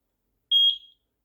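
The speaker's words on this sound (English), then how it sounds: "Press the sync button for 2 seconds until you hear a beep." A single short, high electronic beep from a Eufy SoloCam Pro E40 security camera during sync, clean and isolated with silence before and after.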